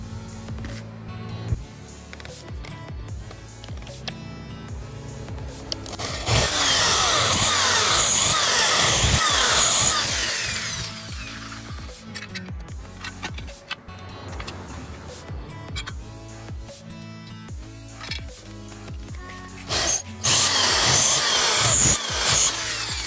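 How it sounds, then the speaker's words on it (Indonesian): An electric drill with a 6 mm bit whirs in bursts while cleaning up drill holes in a speargun trigger mechanism, revving up and winding down several times, close by with clattering and handling noises between runs. "kita bersihkan dulu sisa-sisa bekas bor di sini menggunakan mata bor yang 6 mili"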